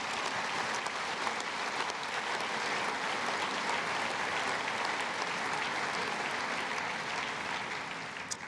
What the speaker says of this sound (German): Der folgende Applaus, der gehört euch.